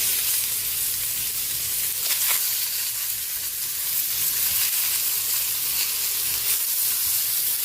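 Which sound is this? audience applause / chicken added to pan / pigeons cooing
chicken added to pan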